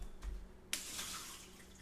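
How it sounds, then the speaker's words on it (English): Water pours out of a blender jar that was warmed for making Bulletproof coffee: a short drip, then a steady splashing stream that runs to the end, fairly quiet and with no talking. "So we got the water in here, we're going to pour that out."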